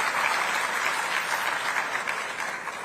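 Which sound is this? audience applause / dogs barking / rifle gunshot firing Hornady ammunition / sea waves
audience applause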